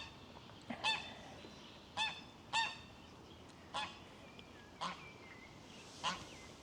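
Geese honking in a park, six separate loud nasal honks spaced a second or so apart, fairly close over a quiet outdoor background.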